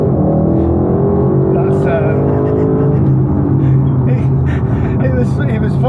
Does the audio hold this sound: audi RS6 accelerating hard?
yes